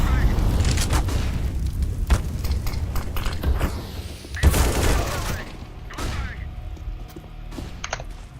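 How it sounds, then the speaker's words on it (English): Heavy booming and rattling gunfire fills a tactical shooter match as a flashbang goes off, a loud burst standing out mid-clip amid continuous firing, with voices talking over the action. "Throwing a flashbang."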